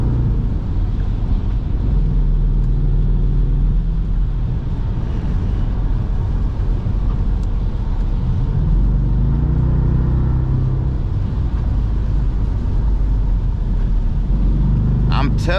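An SRT Jeep driving in light rain, heard from inside the cabin as a steady, loud low engine and road rumble that holds throughout with little variation.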